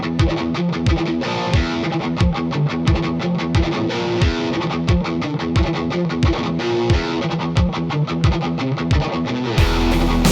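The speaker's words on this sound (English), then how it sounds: "now I'm going to take the exact guitar sound you just heard and turn the Enieqma on." A distorted electric guitar, with an Enieqma EQ pedal engaged, chugging in a tight rhythmic pattern with punchy low-end accents, loud and up close throughout.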